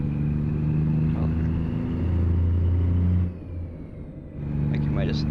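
In a truck driving video game, a car passes by over the steady drone of the player's truck engine on the highway, a brief swell of road noise that fades away.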